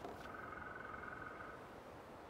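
A single frog croaks in a low, buzzy call against quiet outdoor ambience in the game Tell Me Why, fairly close and fading after a second or so.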